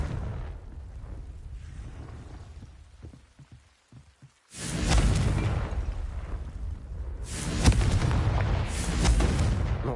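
Confringo fire spell from the video game Hogwarts Legacy erupts in a loud, sustained burst of explosive roaring after a quiet stretch of soft thuds, with a second blast surging near the end.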